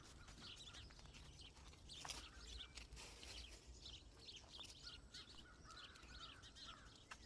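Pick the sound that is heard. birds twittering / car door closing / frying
birds twittering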